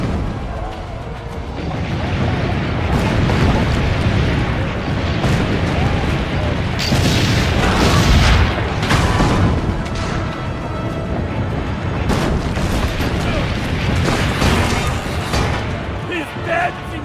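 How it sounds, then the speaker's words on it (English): Cannon fire rumbles through a battle scene in Assassin's Creed Brotherhood, with heavy booms and crashes layered over a dense, loud roar and shouting voices throughout. "Load the cannon. Aim for the cannon, signore!"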